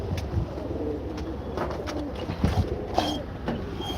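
Pigeons coo softly in a pigeon loft, a low continuous murmur of overlapping calls with a few brief flutters and knocks, close by and steady throughout without anyone speaking.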